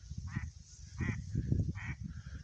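A duck quacks during an autumn duck hunt on a lake, a few short nasal calls spaced about half a second apart over steady low rumbling background noise, moderately close.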